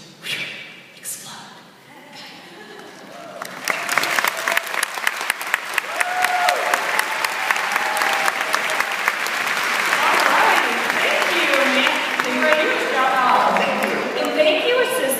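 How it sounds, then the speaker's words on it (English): A live audience at a cooking show breaks into loud, sustained applause after a few seconds of voices, the dense clapping swelling and holding steady with a voice heard over it. "Let's give the assistants a big round of applause."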